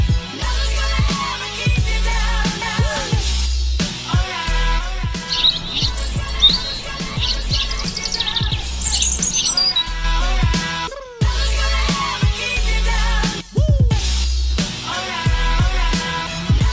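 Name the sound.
birds calling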